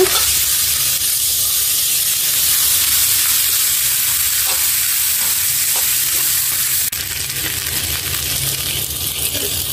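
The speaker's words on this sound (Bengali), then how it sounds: "হলুদের গুঁড়া আর আদা বাটা দিয়ে দিলাম। একটু সামান্য ভেজে নিব।" Turmeric powder and ginger paste frying in a pan, a loud steady hiss of hot oil close by with occasional faint stirring taps, no speech.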